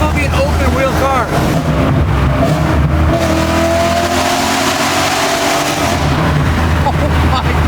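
Loud car with no glass in any window, open like a go-kart, driving with heavy wind and engine roar throughout, rising engine notes and buffeting, no one talking.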